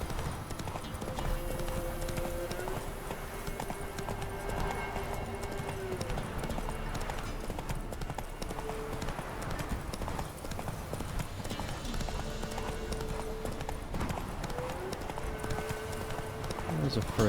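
A horse gallops with rapid, steady hoofbeats in The Witcher 3, a continuous loud clip-clop under background music, with a voice speaking over it at times.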